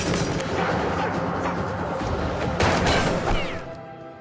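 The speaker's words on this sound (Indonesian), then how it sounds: "Smith yang menyadari akan hal tersebut, ia pun langsung bersiap hingga terjadilah baku tembak." A gunfight from the film Repeater, with dense overlapping gunshots and booming bursts of fire that sound close and loud and fill the whole short stretch.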